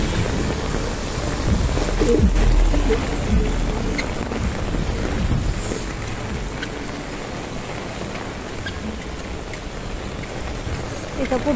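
Heavy downpour in Viman Nagar, Pune, a dense steady hiss of rain close by with low rumbling undertones, continuous and fairly loud throughout.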